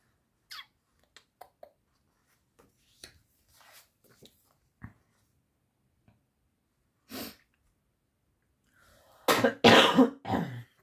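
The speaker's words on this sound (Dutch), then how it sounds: "even een kuchje." A person gives a few short, dry coughs and throat clears, scattered among faint clicks and rustles in a quiet room at a craft table, with the loudest cluster of close coughs near the end.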